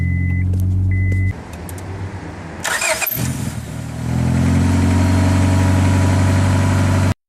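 A car that would not crank, now fitted with a new battery, cranks briefly and fires up, then settles into a loud, steady idle after a short electronic chime, with no talking over it.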